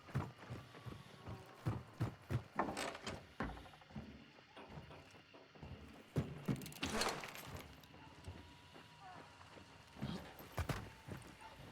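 Footsteps of someone walking mix with jangling keys, irregular clicking steps and small knocks spread over several seconds at moderate distance, with faint background sounds and no speech.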